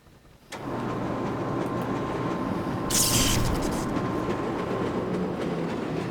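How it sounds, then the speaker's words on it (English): In the game Black Mesa, a train speeds along rails, rumbling and rattling steadily with a low hum, a brief hiss of rushing noise in the middle, no voices present. "And all of a sudden the train is going way faster than it should."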